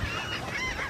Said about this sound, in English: The seagulls and the pelicans were just going crazy right out here in front of the dock.